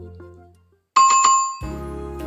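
Notification bell sound effect: a bright chime with a couple of quick ringing strikes that sustain briefly, followed by a lower tonal swell.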